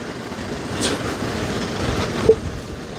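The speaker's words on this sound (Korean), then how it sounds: "이게 지금 월미도 열차?" The Wolmido rail train runs along its elevated track as a steady, distant rumble over broad outdoor noise, with a brief clack near the end and no talking.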